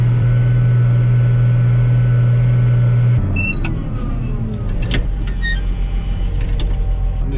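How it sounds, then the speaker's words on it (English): A pickup truck drives off with a steady engine rumble, its low idle hum giving way after a few seconds to road and tire noise, with a few clicks and knocks along the way. "hightail it over to my pickup truck"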